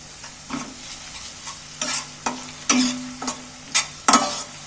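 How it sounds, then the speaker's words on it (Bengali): Ginger-garlic paste fries with onions in hot oil, giving a soft, steady sizzle. A spoon scrapes and clinks against the pan in several sharp strokes while the food is stirred, and no one talks. "আদা রসুন বাটাটাও তেলের মধ্যে একটু নাড়াচাড়া করে পেঁয়াজের সাথে ভেজে নিচ্ছি হালকা করে"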